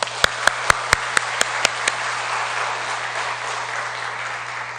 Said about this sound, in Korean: 우리 할렐루야 찬양대를 위해서 박수를 한번.